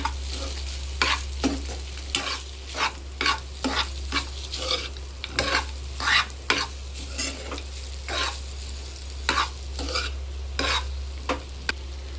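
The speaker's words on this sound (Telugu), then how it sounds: "ఇప్పుడు సేమియాని మంచిగా కలుపుకోవాలి." A spoon repeatedly scrapes and taps through vermicelli for semiya pulihora in a pan, in uneven strokes over a low steady hum, close and moderately loud.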